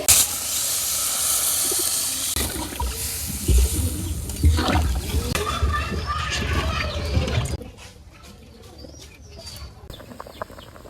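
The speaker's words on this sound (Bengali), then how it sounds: "আমি জলের লেগে একটু পানি দিয়ে দেবো" Water poured into a hot pan of potatoes bursts into a loud hiss of steam, fading into softer bubbling and crackle, with birds and children's voices audible in the background.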